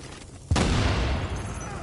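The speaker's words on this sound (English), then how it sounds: "Reporting gunfire in the station above us." Video game on PS4: a sudden loud burst at about half a second, followed by sustained rumbling, crackling gunfire and explosions that fill the rest of the clip.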